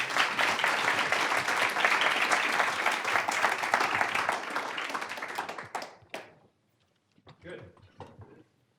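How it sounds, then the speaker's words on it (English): Audience applause for a panel at a policy speaker-series event on wildfires: a sustained, dense round of clapping that fades out after about six seconds, followed by a brief spoken voice. "let's give a warm round of applause for our panelists today"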